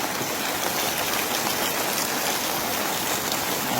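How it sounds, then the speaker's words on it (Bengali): Heavy monsoon rain pours down in Sittong, a steady, dense, loud hiss of drops on surfaces with no break, no voices over it. "বৃষ্টিটা একবার দেখুন প্রচণ্ড বৃষ্টি হচ্ছে"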